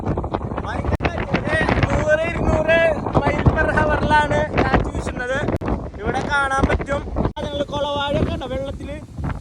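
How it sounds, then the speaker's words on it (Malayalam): Strong wind blasts across an open coastal spot after heavy rain, a loud continuous roar and buffeting against the microphone, with waves slapping nearby; someone talks loudly over it throughout. "മഴ മൊത്തം മാറിപ്പോയി കാറ്റ് മാത്രമേ ഉള്ളൂ"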